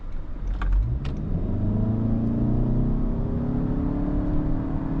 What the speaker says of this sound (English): I'm gonna see if we can get a quick acceleration bit